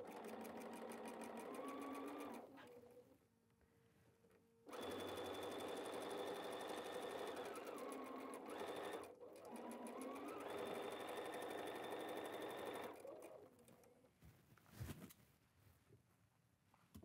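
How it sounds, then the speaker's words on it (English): Sewing machine stitching a quarter-inch seam on quilt pinwheel blocks, a close, steady rapid mechanical whir in two long runs separated by short pauses, ending with light handling clicks. "And in those two corners and sew our quarter inch."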